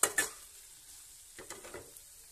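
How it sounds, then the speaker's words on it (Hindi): Soybean chunks are stirred in a pan, starting with two sharp scraping strokes, then quieter scrapes and a soft sizzle, close and with no talking. "मैंने इसमें सारी सोयाबीन डाल दी और मैं इसको अच्छे से कर लूंगी रोल, मिला लूंगी मैं इसको अच्छे से"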